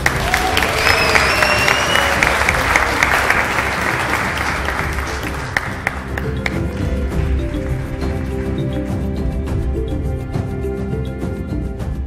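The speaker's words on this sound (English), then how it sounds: "Please honor her by giving her a round of applause." A round of applause for a speaker at an International Anti-Corruption Day summit, dense crowd clapping that swells loudly at first and then thins into scattered claps over about twelve seconds, with faint voices underneath.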